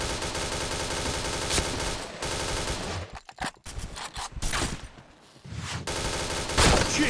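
Rapid video-game gunfire in dense bursts, broken by a few short pauses and sharp single shots before the shooting resumes loudly.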